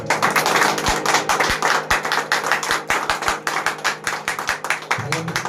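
A congregation at a Sunday holy communion service claps for the children, producing a loose run of sharp, scattered hand claps of moderate loudness mixed with voices talking.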